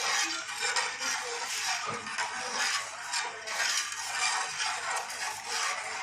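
A spoon stirs porridge into cold milk in a metal pot, giving a continuous scraping and clinking with a steady, repeating rhythm, close and fairly loud.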